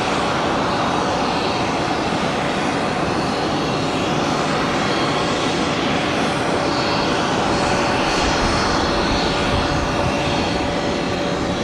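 Airbus A220 airliner landing at Tampa airport, a loud sustained jet engine roar that stays strong and close throughout, with a faint steady whine running underneath.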